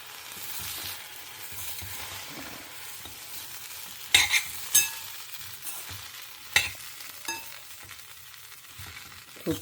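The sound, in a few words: food being stirred and fried in a pan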